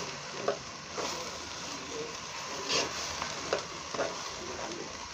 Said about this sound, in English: Add it in the hot oil. Then you now stir.